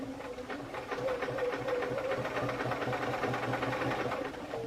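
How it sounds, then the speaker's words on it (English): A sewing machine running steadily while stitching a quarter-inch seam on fabric pieces pinned to paper, a close, even mechanical whirring hum with a rapid needle rhythm throughout. "I am going to sew it with a 1/4 inch seam"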